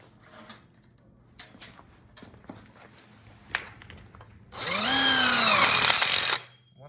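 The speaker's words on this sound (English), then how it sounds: "Now we flip it over, and we finish screwing the other end of the VTs here" A power drill drives screws into the end of an outdoor kitchen 90-degree corner frame kit. A few light knocks and handling clatters come first, then one loud, close drill run of about two seconds whose pitch rises and falls as the screw seats.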